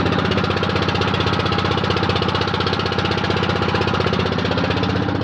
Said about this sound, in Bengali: এই নৌকার উপরে উঠে আমরা যাচ্ছি।